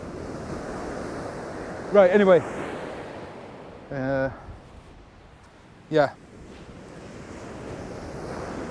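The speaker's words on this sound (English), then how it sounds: "I think the sea's just picked up again." Sea surf breaks and surges steadily onto the shore at Sutton on Sea, a continuous wash under gusting wind, with brief bursts of a voice and other sounds interrupting now and then.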